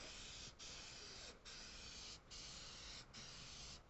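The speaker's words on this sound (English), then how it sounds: "So now I'm just gonna spray this" An aerosol can of Plasti Dip Smoke sprays in four or five steady hissing bursts separated by short pauses, close up and alone.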